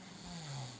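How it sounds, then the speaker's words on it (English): An infant boy asleep on a changing table snores softly, a steady low nasal drone with a faint rising wheeze, close and quiet with no talking. "He fell asleep on his changing table and he's snoring."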